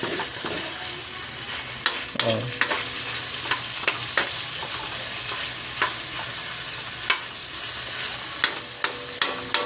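Native chicken frying in its own rendered fat for tinola, a continuous close sizzle broken by repeated sharp scrapes and knocks of stirring, without speech.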